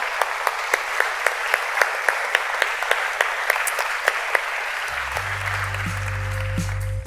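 A church congregation claps, giving God a round of applause for faithful mission workers back from Lebanon. Moderate steady clapping is joined near the end by a low sustained organ or keyboard tone.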